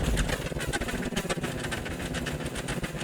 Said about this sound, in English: First switch here turns on your engines and your prop.